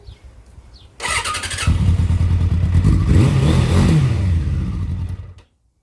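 A Suzuki Bandit 600 motorcycle engine turns over quickly on a new starter motor, starting with a brief clattering crank and then catching into a loud, steady running idle with a slight rise in revs, close by.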